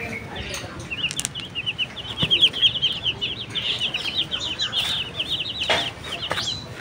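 Colorful chickens clucking and chirping in quick, busy runs close by, with bursts of wing flapping and rustling underneath and no talking.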